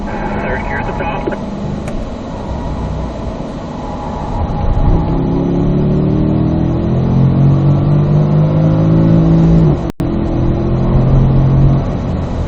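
A Corvette engine pulls hard in third gear on a race track, a loud rising drone that climbs steadily in pitch, heard from inside the car with someone talking over it.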